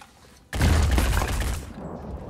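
A single overwatch rifle shot in the tactical game Phoenix Point cracks loudly and rolls into a booming, fading tail of gunfire noise lasting about a second before settling into quieter game ambience.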